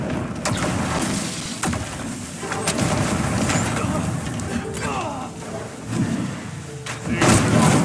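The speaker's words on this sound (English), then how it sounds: "This stellar bombardment shall leave nothing standing!" A stellar bombardment spell in Dragon's Dogma 2 rains down as a series of loud, heavy thuds and crashing impacts over a dense, rumbling battle din.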